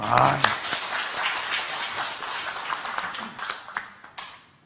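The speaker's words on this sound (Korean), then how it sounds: "박수 한번 쳐주세요" Audience applause at a church talk show, a dense patter of clapping rising briefly over a voice at the start, then continuing at moderate level and fading toward the end.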